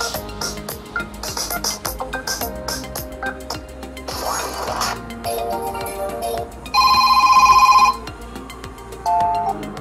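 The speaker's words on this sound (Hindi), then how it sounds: "लेकिन मोटो की प्रॉब्लम ऐसे कि ये लोग रिंगटोन से यार बहुत अलग ही देते" A Moto G5s Plus smartphone plays its built-in ringtone, a bright electronic melody of plinking, chiming tones heard up close and fairly loud. The phrases repeat with short pauses, and a stronger sustained passage comes near the end.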